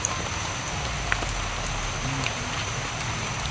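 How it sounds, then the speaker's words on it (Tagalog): Heavy rain falls steadily on surfaces outdoors, a constant dense hiss with scattered drop taps, holding evenly throughout with no voices. "Grabe yung ulan bro na. Ulan na naman po dito."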